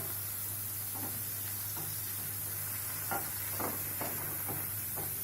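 Chopped green chillies and tomato with onion fry in a pan, a steady sizzle with occasional soft stirring scrapes, close and continuous.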